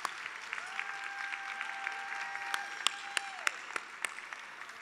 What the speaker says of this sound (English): Please give them all a round of applause to the recipients and our sponsors.